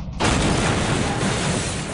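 A sudden, heavy practical special-effects explosion bursts in and keeps roaring loudly as a dense, rumbling blast for a couple of seconds.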